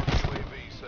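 A few quick gunshots are fired in a Call of Duty match, landing a long-range kill. The sharp reports come in a rapid cluster within a second and fade into a short tail, mixed with game audio and voice.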